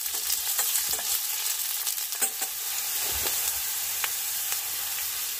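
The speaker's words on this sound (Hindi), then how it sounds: "प्याज, और साथ ही साथ शिमला मिर्च, दोनों अपने आप फ्राई होती हैं भाई बढ़िया से" Onion and bell pepper fry in a pan at a solo forest campsite. A soft, continuous sizzle and hiss plays alone, broken by a few sharp stirring clicks.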